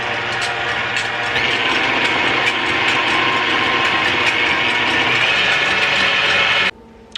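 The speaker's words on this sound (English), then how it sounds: "I'm using my KitchenAid stand mixer." A KitchenAid stand mixer whips egg whites with a loud, steady motor whir and rattle that runs continuously, then cuts off abruptly near the end.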